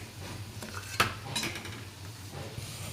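Jackfruit goes into a pan of masala with onion, garlic and coconut and gets stirred, giving a few sharp utensil clanks against the pan over a faint background.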